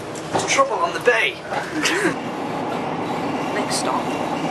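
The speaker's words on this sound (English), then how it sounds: "Now we're on the train." A passenger train rolls toward Nottingham station, giving a steady rumbling ride noise with people talking over it close by for the first couple of seconds, then a constant clattering drone alone.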